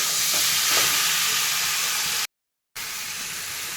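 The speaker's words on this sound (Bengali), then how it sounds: "এবারে আমি চালতাগুলো তেলের মধ্যে দিয়ে দিলাম কড়াই। এবার একটু ভালো করে একটু নাড়াচাড়া করে নেব।" Pieces of elephant apple (chalta) being stirred and fried in hot oil in a wok, a soft steady sizzling hiss with a few faint scrapes, briefly cut to silence midway.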